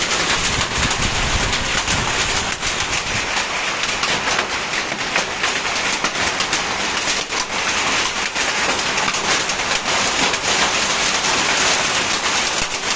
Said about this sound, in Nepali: कत्रो असिना आयो